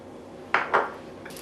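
A spoon stirs couscous and herbs in a bowl, two quick scraping clinks close by, then quiet.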